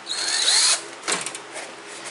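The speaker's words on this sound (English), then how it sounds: "I'm using a Forstner bit so I don't go too deep" A power drill with a Forstner bit bores into wood in a short, high whining burst, followed by a brief second spin-up and lighter mechanical clicks.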